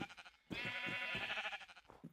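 Sheep bleating in Minecraft (FtB modpack), one drawn-out wavering bleat heard quietly between soft game sounds and faint thumps.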